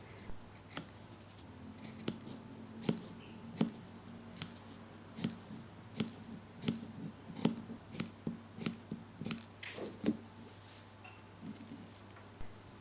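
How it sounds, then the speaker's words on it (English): Fabric scissors trim fabric around a curve for a bow, making a run of crisp snips at an even pace, close and clear over a faint background hum. "use your fabric scissors to cut only fabric. Next, trim around the curvy part."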